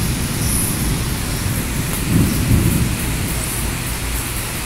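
Steady heavy rain hiss of a thunderstorm in Van Cortlandt, the Bronx, New York City, with a low rumble of thunder swelling midway, continuous and fairly loud, no voices.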